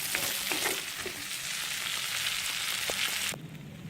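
Butter garlic prawns sizzle and crackle in a hot pan as they are stirred, with crisp spattering and a few sharp scraping clicks before the frying abruptly drops away near the end.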